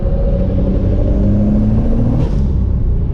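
A Toyota MK4 Supra with a turbo accelerates hard through a corner, a loud, steady engine drone with rising tone that fills the whole clip, heard up close and with no voices.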